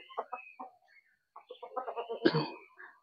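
Domestic hens clucking close by at a house, a series of short, choppy clucks with a pause, then a busier burst with one sharper squawk.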